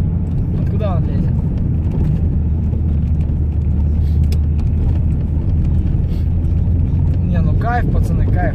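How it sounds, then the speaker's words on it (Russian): Audi 100 C4 driving, a steady low engine and road drone running throughout at close range, with brief voices and some rattling over the top near the start and end. "Тачанка едет, конкретно едет."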